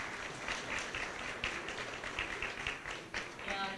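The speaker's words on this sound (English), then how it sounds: "Can we give him one more big round of applause?" An audience gives a round of applause for a detective at a talk on scams and fraud, a steady, fairly faint wash of many hands clapping with some voices mixed in.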